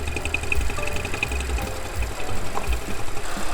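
A quattro all-wheel drive car idling smoothly with the hood up, a steady low engine rumble with a light, even ticking over it, close and continuous, with no voices.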